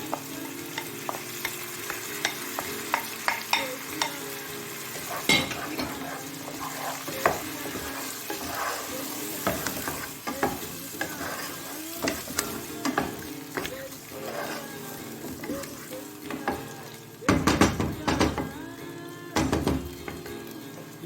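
Masala being fried and stirred in a pan for hariyali chicken, with a steady sizzle and repeated scraping strokes of a spoon, louder clatter near the end.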